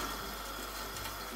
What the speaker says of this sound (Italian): A questo punto io aggiungerei un pochino d'acqua